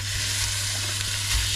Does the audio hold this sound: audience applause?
no